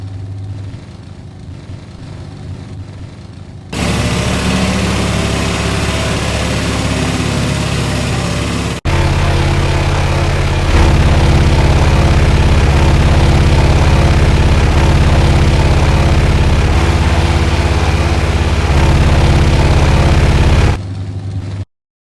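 A heavy Cromwell tank engine reversing in the Minecraft Flans Mod drones low and steady, shifting in pitch partway through as it changes gear, then cuts out abruptly at the end.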